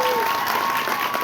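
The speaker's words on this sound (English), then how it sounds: "please, round of applause for that." An audience at an interview event for Legends of Tomorrow breaks into dense, steady applause, many hands clapping at once with faint crowd murmur and a voice lightly over it, loud and continuous throughout.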